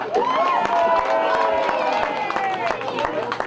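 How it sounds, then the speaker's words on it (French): Crowd applause for teams at a Groupama youth tournament in Moissac, dense sustained clapping and cheering filling the whole stretch, with a loud amplified voice carrying over it. "on les applaudit"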